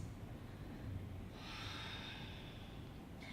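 Slow, deep breathing held through a yoga pose, a long soft exhale rising near the middle and continuing over a low steady background hum, with no talking.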